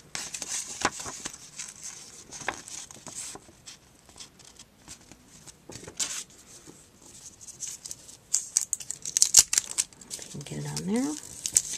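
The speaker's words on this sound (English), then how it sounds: "we're just going to tape it on the back" Tape is handled and pressed onto ribbon on the back of a handmade birthday card: soft crinkling and tapping close by, ending with a brief stretching rip of tape, under intermittent talk.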